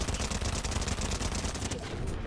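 Rapid gunfire bursts from the video game Fortnite during a live event, loud and dense automatic shots rattling continuously before cutting off near the end.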